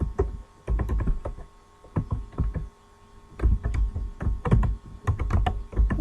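Fast typing on a computer keyboard: bursts of close, clacky keystrokes with short pauses between them, over a faint electrical hum.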